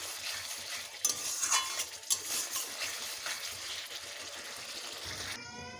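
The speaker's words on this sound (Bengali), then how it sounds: "টমেটোটাকে কষতেই থাকবো যতক্ষণ কাঁচা গন্ধটা না গেছে" Tomatoes being stirred and sautéed in spice masala for a Bengali rohu fish curry with ginger-cumin paste; soft frying sizzle runs under scraping spoon strokes, with a few sharper clinks against the pan.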